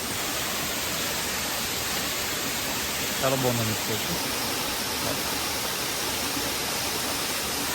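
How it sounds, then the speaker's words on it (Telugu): A waterfall on the Agasthyarkoodam trek gives a continuous broad rushing roar that fills the whole stretch evenly, with a short spoken remark heard over it partway through. "చూస్తే ఇక్కడ వాటర్ ఫాల్ ఉంది, చాలా బాగుంది."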